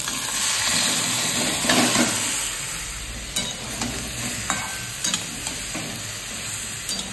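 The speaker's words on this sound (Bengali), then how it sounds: "চিকেনটা দিয়ে এই গ্যাসের ফ্লেমটা হাই করেই ভাজতে হবে" Chicken marinated in black pepper and lime juice sizzles loudly in a pan over a high gas flame while a utensil stirs and scrapes now and then, a constant close crackling hiss.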